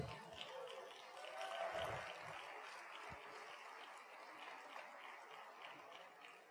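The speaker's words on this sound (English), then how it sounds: "a round of applause for the 1974 Men's Cross Country Team" Applause from an audience at an athletic hall of fame ceremony honoring the 1974 Glendale College men's cross country team, a steady wash of clapping held at a moderate, fairly distant level throughout.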